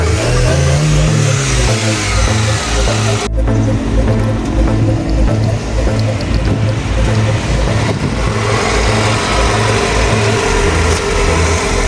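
A Nissan Bluebird car engine runs hard at full power, loud and close, with a continuous roar that shifts abruptly in tone a few seconds in and then holds steady.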